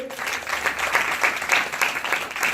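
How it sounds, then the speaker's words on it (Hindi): A church congregation breaks into loud, sustained applause during a Hindi sermon, dense clapping filling the space steadily throughout with no voices rising above it. "जोरदार ताली देंगे।"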